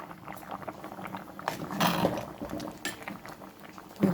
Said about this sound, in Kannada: ಈಗ ಸಾಂಬಾರು ಚೆನ್ನಾಗಿ ಕುದೀತಾ ಉಂಟು.